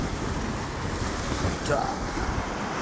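Strong wind blows steadily across seaside rocks during late-autumn sea fishing off the Korean coast, with waves and wind buffeting the microphone. Someone briefly speaks over it.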